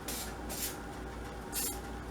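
Cooking oil spray is aimed onto the rubber gasket of a home canner, three short hissing bursts sounding close and fairly loud against a steady low background hum.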